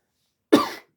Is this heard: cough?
yes